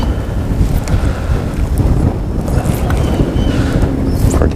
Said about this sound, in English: Pretty good gust of wind.